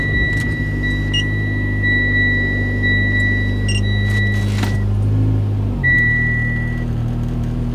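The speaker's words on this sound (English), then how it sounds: "we're going to start up the car, put it in reverse" A Mitsubishi Lancer starts and idles with a steady low engine hum, while repeated electronic beeps and chimes sound from the dash; partway through the tone shifts as the car is put in reverse, followed by a new chime.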